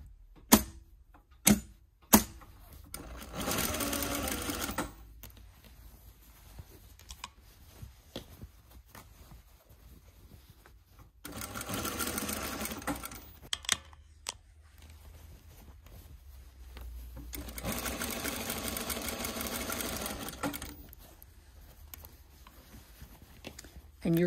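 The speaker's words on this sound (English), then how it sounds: "So two rows of gathering stitches all the way around" A sewing machine runs two rows of gathering stitches along the bottom edge of a sleeve for a Know Me ME2069 top, with three sustained whirring runs separated by quiet pauses and a few sharp clicks at the beginning.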